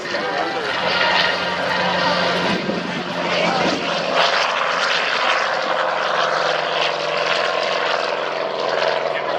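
A North American Aviation AT-6 propeller plane flies low, about 300 feet, past an air show runway, its engine drone loud and sustained throughout, with a commentator talking over it.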